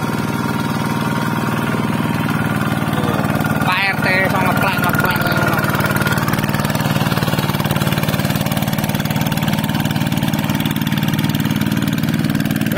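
A farm tractor engine runs steadily in a rice field, a loud continuous mid-pitched chugging drone throughout, with people talking over it and a brief whistle-like warble.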